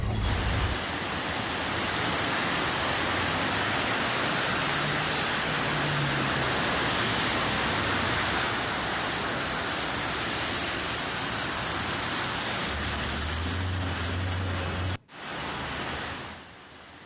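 Torrential night rain pours down over Bengaluru in a dense, steady roar of hissing water, loud and unbroken, with a low rumble underneath and a brief dropout near the end.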